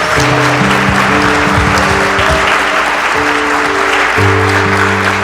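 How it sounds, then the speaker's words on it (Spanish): Loud applause fills a church during a celebration in Guandacareo, Michoacán, dense steady clapping throughout with tonal music or sustained notes sounding alongside. "Lo entrego con un aplauso a usted."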